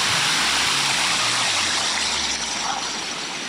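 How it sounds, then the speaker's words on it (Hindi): Water pours steadily down a water park waterfall, a dense continuous rushing wash at close range, with a faint low hum underneath and no talk. "वाटरफॉल स्टार्ट हो गया, आ जा।"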